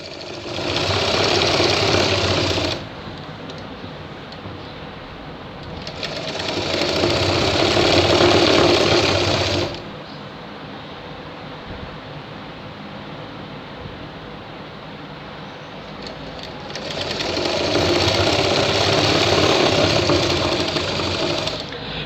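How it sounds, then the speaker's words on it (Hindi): A sewing machine stitching a shirt shoulder seam runs in three long bursts of steady mechanical whirring, stopping briefly between runs, close and loud with no talk. "सिलाई अपन एकदम से धीरे धीरे लगानी है।"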